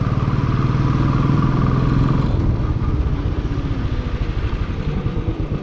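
A motorcycle engine idles and runs at a railway crossing on a ride to Matheran, a loud, close, chugging mechanical rumble with a faint clatter and a slight drop in pitch midway.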